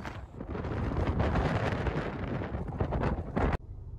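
Loud wind buffets the microphone in rough, gusting bursts for several seconds, then cuts off abruptly to a quieter background, outdoors near the Nubble Lighthouse, Maine.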